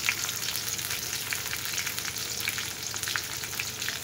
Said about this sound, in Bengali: পেঁয়াজগুলো ভাজা হলো